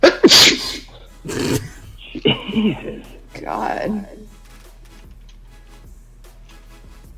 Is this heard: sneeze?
yes